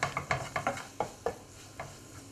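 A metal spoon stirring onions in a frying pan, with a run of close, distinct scraping strokes in an uneven rhythm over a faint sizzle, the strokes easing off toward the end.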